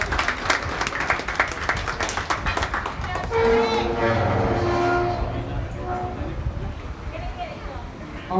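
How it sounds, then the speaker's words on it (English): Applause from the crowd at a junior livestock show, clapping for the kids' market steers, dense and steady at first, then fading under a voice and background noise. "Let's give them all a round of applause for a job well done."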